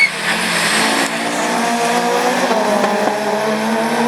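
Division 4 rallycross race cars launch from the start at a 2012 French championship round in Lessay, a loud, dense roar of engines revving hard with tire noise, sustained throughout.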